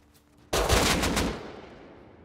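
AK rifle gunfire in the Roblox Bedwars video game: one abrupt loud burst of rapid automatic fire after a quiet start, fading into a trailing echo, with no talk.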